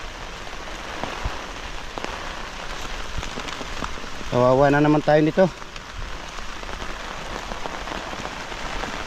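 Steady rain patters and hisses on surfaces of a tomato field throughout, with a brief spoken voice partway through.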